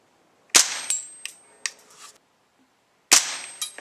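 Two sharp, loud gunshots from .22 LR Remington subsonic rounds fired one at a time from an AR-15 rifle, each crack followed by a short metallic ring and rattle, with a quiet gap between the shots.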